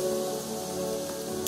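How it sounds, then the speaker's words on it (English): Rain patters steadily in the video game Starbound, a soft even hiss under a sustained droning game music tone, with a brief brighter sound effect near the end and no speech. "It looks like rain puts out campfires."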